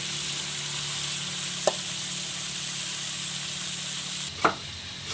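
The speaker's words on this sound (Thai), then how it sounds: "เราก็ค่อยๆคนนะคะจนกว่าจะงวดแล้วก็เหลืองนะคะ คนไปเรื่อยๆนะคะ ใช้ไฟอ่อนๆนะ" Chicken frying in a pan over low heat while being stirred, giving a steady, even sizzle with a couple of brief spatula scrapes, close and without talk.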